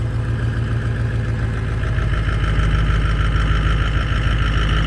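Ford vehicle with a manual transmission idling after start-up on a large farm, giving a steady, loud, close engine rumble with an even low throb and no talk.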